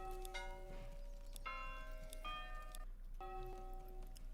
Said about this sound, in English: I can sound the church bell